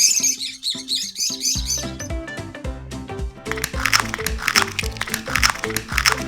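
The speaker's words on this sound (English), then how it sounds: "Many little birds." Many small cartoon birds chirp in quick high bursts over bouncy children's background music, loud and continuous throughout.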